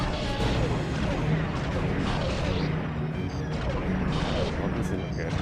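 Missile explosions and heavy fire pound in Star Wars Galaxies, forming a dense, continuous wall of booming impacts and crackling blasts with a voice talking over them.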